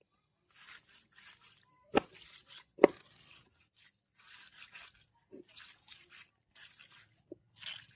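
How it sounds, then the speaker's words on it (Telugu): Food is rinsed by hand in salted water, producing soft sloshing, scattered drips and a couple of sharp knocks against the vessel, all faint and close with gaps of quiet. "ఉప్పేసి ఒకసారి నీట్గా వాష్ చేయాలి, క్లీన్ చేయాలన్నమాట ఉప్పేసి."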